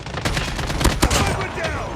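Loud, dense gunfire from the Call of Duty Mobile video game in a Gun Game Moshpit match, rapid overlapping shots with no break, close and continuous.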